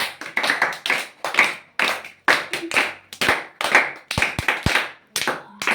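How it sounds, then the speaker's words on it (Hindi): Children clap in an irregular patter of sharp hand claps, close and moderately loud, several bursts across a few seconds with no talking. "इसके लिए ताली है।"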